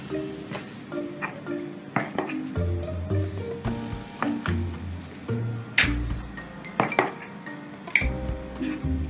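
A glass jar is filled with sweet peppers and curd cheese, giving repeated bright clinks and taps at an uneven pace alongside soft squishy handling sounds.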